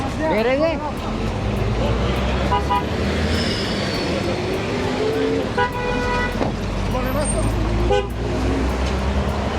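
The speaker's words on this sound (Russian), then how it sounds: "Видите, все сигналят." Busy street traffic in Uzbekistan, engines rumbling and several car horns tooting in short bursts, near and loud, while people talk throughout.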